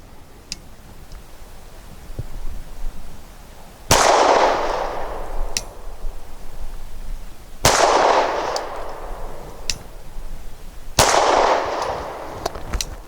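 Three sharp, loud gunshots from a Gill Arms GPR 9M pistol firing aluminum-cased ammunition at a target, spaced a few seconds apart, each ringing out with a decaying echo, plus a few faint clicks between them and no talking.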